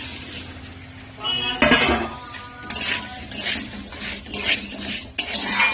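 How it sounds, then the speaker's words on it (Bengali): Dried red chillies, black peppercorns and peanuts are dry-roasted in a wok, with repeated scraping, rattling and clinking as they are stirred with a spatula, close and uneven in rhythm. "কড়াইয়ের মধ্যে দেখো শুকনো লঙ্কা, গোলমরিচ আর বাদাম ভাজা করছি।"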